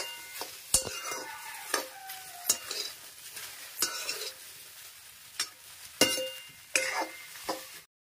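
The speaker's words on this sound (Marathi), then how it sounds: "आणि भेंडी भाजून घेते पहिले" Okra and kokum roasting in a pan for a rustic Konkan-style bhindi bhaji, with a soft sizzle under repeated sharp scrapes and clinks of a spoon stirring against the metal pan.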